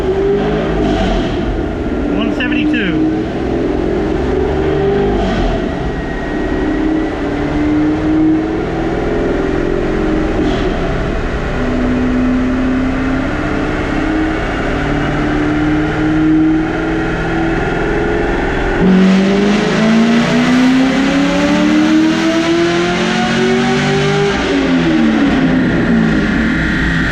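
A naturally aspirated C7 Corvette V8 running on E85 on a dyno, loud and close, repeatedly revving up through the gears with rising pitch sweeps and brief drops between pulls.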